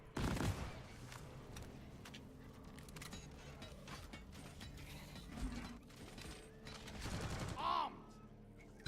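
Rapid gunfire in Deep Rock Galactic as players shoot at a breeder, a steady stream of sharp shots and mechanical clatter layered with game effects and faint voices.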